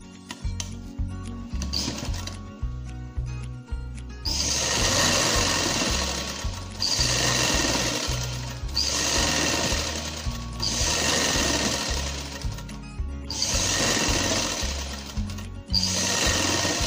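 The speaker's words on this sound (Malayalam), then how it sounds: "ഇനി അടിയിലെ ഭാഗത്താണ് മടക്കി അടിക്കേണ്ടത്." A sewing machine stitches the folded hem of a kurti, running in loud close bursts of rapid whirring separated by brief pauses and slower hand-cranked starts.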